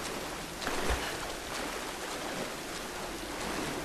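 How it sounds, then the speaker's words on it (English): Heavy rushing water of a strong waterfall current in the Tomb Raider video game, a dense continuous roar with no talk over it. "Somehow not moving under the very strong current of the waterfall."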